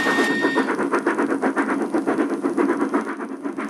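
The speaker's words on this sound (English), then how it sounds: "We hear the express train, and it's a Pullman." A model railway express Pullman train, headed by a Lord Nelson Class locomotive, rumbles past with a rapid, even clatter of wheels on track joints, loud and close, with a brief high whine at the start.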